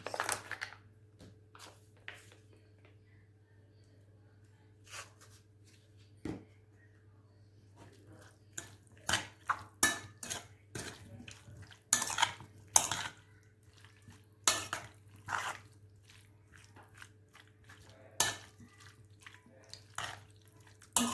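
A spoon stirs and tosses an eggplant and tomato salad in a dish, giving quiet, intermittent clinks and scrapes of utensil against the bowl, close up and sparse at first, then more frequent.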